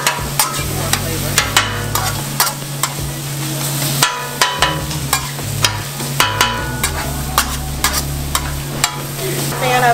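Salmon with spinach and onion fries on a deli griddle under a steady sizzle, with regular sharp clanks and scrapes of a spatula against the flat-top throughout.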